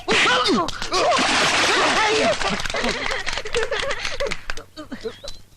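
Water splashes and sloshes loudly and continuously in a comedy film scene, with shouting voices and gasps over it, trailing off toward the end.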